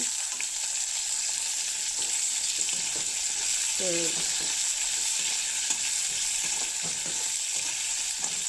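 Onions sizzle steadily in a hot pan, a continuous crackling hiss with occasional stirring scrapes and clinks.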